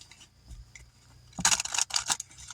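Tarot cards shuffled by hand, a few short papery riffling bursts in the second half, the loudest near the middle, in an otherwise quiet room with no talk.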